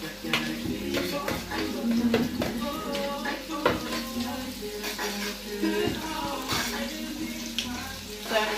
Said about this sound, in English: I'm going to now throw the chicken inside the pot to be fried also.